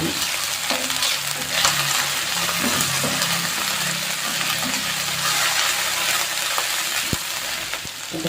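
Chillies, garlic and ginger sizzle steadily in hot oil for chicken chilli, a continuous close frying hiss with stirring scrapes throughout and a brief sharp clink near the end.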